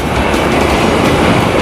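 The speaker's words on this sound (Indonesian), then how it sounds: "pas banget ada KRL dari arah Jakarta menuju Citayam" A KRL commuter train travelling from Jakarta toward Citayam rushes past close by on the railway, a loud, dense, continuous roar with no pauses.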